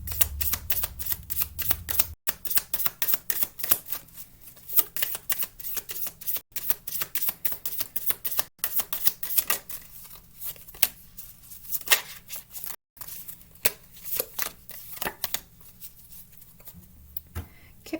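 Oracle cards are shuffled close up in quick, repeated riffling and flicking bursts with brief pauses between rounds.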